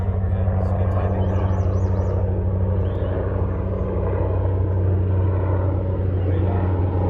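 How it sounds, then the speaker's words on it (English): Helicopter flying right overhead on a trail of dry ground, a steady loud low rotor drone with engine whine filling the whole stretch, some distant voices mixed faintly underneath. "It's a helicopter."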